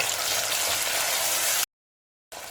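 Cinnamon, bay leaf and fennel sizzle in hot oil for a Chettinad sprouted-gram kuzhambu. A steady, close hiss of frying is broken by a brief silent gap before it resumes.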